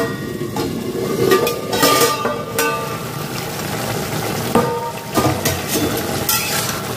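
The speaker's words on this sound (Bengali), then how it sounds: "আমি এবার ঢাকনাটা খুলে দেখছি কতটা হলো" A pot lid comes off a pan of bottle gourd with prawns cooking on the stove, adding a few metallic clatters over a steady, dense hiss of simmering and sizzling close by.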